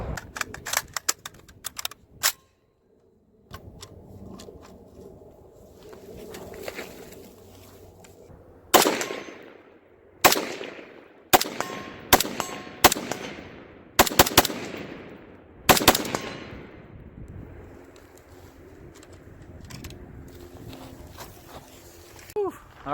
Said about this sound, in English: Lay down some suppressing fire.